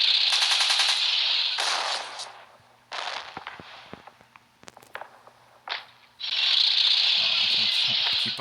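Bursts of rapid machine gun fire from the World War I strategy game Pixel Soldiers: The Great War, long rattling volleys separated by scattered single shots and clicks, loud and close.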